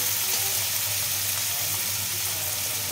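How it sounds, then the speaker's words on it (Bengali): Sliced onions frying in oil in a pan for a Bengali thin meat curry, cooked until half-browned. They give a steady, close, dense sizzle throughout with no talk. "পেঁয়াজটা আধা লাল করে ভেজে নেব, বেরেস্তা করবো না, কিন্তু আধা লাল করে ভেজে নেব।"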